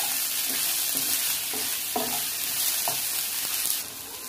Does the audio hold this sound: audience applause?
no